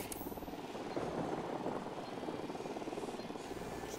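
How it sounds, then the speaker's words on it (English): Helicopter from the Ghost Recon Wildlands video game passing overhead, a steady broadband rotor and engine drone that holds loud and even for the whole stretch with no talk. "I hear a chopper."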